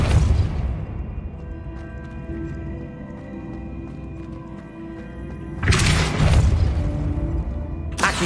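Depulso spell blasts from the game Hogwarts Legacy: a loud whooshing burst at the start, a low rumbling lull, then another heavy blast near the end, followed by a sharp hit.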